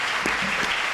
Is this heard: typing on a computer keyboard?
no